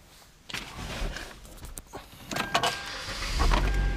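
Power windows in a used Hyundai Sonata with light tan cloth interior run with a steady electric motor whine, rising and falling as the glass moves, close inside the car cabin with small clicks and no talk.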